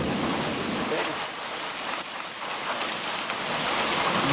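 Steady rain falls on an outdoor trail during a cattle drovers' journey, a loud, dense, continuous hiss of drops that hardly varies across the few seconds.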